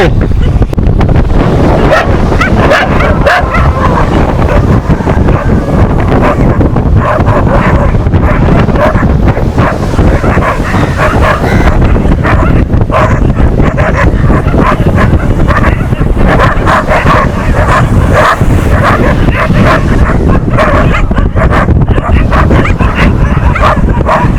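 Dogs bark repeatedly and loudly over heavy, constant wind buffeting the microphone, with surf-like roar underneath.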